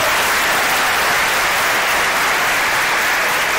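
Sustained, dense applause from an audience at a White Cane Safety Day event, steady and loud throughout with no talking over it.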